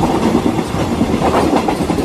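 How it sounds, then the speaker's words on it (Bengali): A train races along at high speed with a loud, steady rumble and a rhythmic clickety-clack of wheels on rails, heard close up with no voices. "ট্রেন আগের মতোই প্রচন্ড গতিতে ছুটে চলেছে।"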